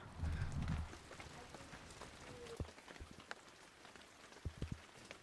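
Steady rain falls outdoors in Greenville with soft, continuous patter and scattered distinct drops, fairly quiet and without talk, after a brief louder rumble at the start.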